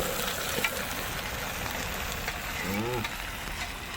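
Marinated fish frying in a pan for a Bengali fish gravy gives a steady, low sizzle throughout, with a few faint clinks and a brief voice near the end.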